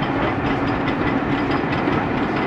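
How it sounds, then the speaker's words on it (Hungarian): A steam locomotive styled as the Hogwarts Express arrives with a steady, loud rumble of rolling wagons and rail noise, continuous and close throughout. "Megjött a vonat."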